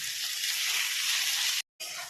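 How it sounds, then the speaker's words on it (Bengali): Green chillies frying with ginger and garlic in a pan, a steady bright sizzle that drops out briefly near the end before resuming. "কাঁচা লঙ্কা ভাজতে থাকবো যতক্ষণ আদা রসুনের কাঁচা গন্ধটা চলে না যায়।"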